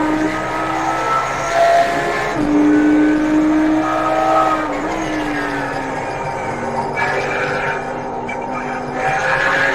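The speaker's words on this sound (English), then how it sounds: "Oh man, I spun out and I killed the engine." Race car spinning out in a racing video game played on a Fanatec DD2 wheel, a loud engine whine with shifting pitch and tire squeal, then the engine dropping away as it stalls.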